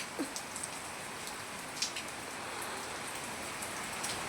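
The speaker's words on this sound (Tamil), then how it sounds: "ஆனால் நல்ல மழை வந்துடுச்சு" Heavy rain pours steadily in a village during a downpour, a dense even hiss with a few close drips and taps on a surface, no voices.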